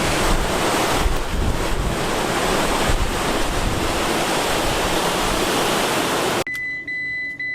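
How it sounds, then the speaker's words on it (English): Waves crashing on the shore beside a house on Dauphin Island, Alabama, a loud continuous roar of surf with heavy wind buffeting the microphone, cutting off near the end. "You can see the waves crashing by this person's house."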